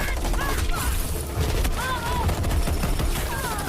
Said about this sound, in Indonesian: tembakan tidak ada henti-hentinya dari pihak lawan